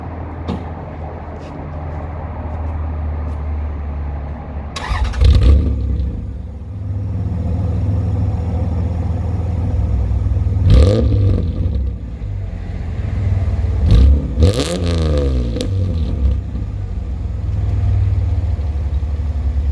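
A Toyota Solara with a 3.0 1MZ-FE V6, headers, cat delete and MagnaFlow muffler starts up and settles into a steady deep idle, with a couple of brief blips and clunks along the way.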